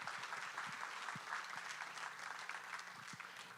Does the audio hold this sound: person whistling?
no